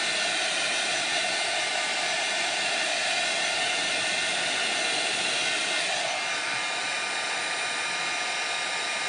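A heat tool blows steadily at close range, curing Chalk Couture ink on a shirt with a continuous hot-air roar that barely changes for nine seconds.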